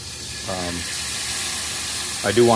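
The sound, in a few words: water sizzling as it deglazes a hot cast iron pan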